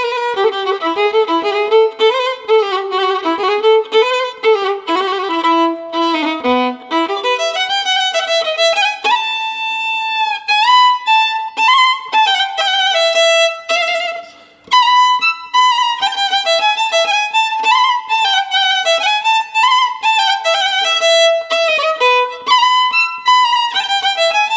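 Solo violin plays a lively Romanian sârba folk dance melody, Sârba creată, starting in first octave, with quick ornamented notes and slides, continuous and close, ending on a cadence phrase.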